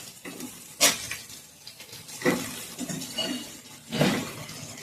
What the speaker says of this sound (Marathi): मिरच्या आपल्या छान फ्राय होऊ द्यायच्या आपल्याला